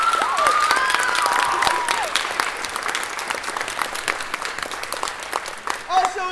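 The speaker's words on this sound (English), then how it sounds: "So a big round of applause" Audience applause at a children's theater camp final performance, dense and steady clapping with crowd noise and a few whistles or shouts early on, gradually thinning.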